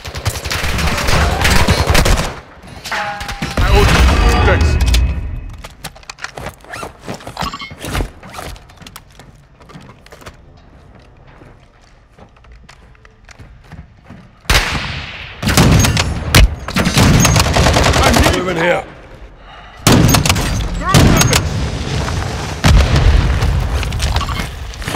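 Gunfire and explosions in the video game Call of Duty: Warzone 2.0, loud close bursts and booms, a quieter lull in the middle, then heavy volleys return.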